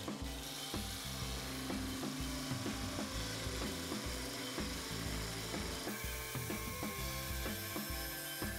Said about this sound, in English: So we're gonna take the parting tool here and cut it off